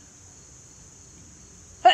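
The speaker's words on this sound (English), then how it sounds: "I can stop my hiccups by pulling on my ear" A single short, sharp hiccup from a person right at the end, near and loud, after near silence with a faint steady high hum.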